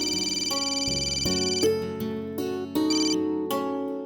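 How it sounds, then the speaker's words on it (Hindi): A phone ringtone plays a bright repeating melody of tonal notes in a quiet indoor scene, clear and fairly close, with no voices over it. "प्रिया का फोन"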